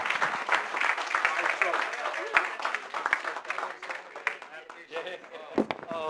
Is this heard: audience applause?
yes